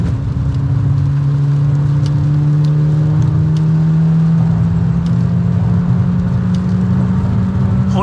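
A car drives on a rain-soaked track, its engine a loud, close, steady drone that holds without pause throughout.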